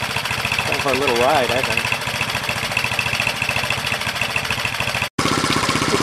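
A 1967 Honda CL90 motorcycle engine, freshly carb-adjusted, idles steadily with a low, even chugging throb close by, cut briefly near the end, while someone talks over it.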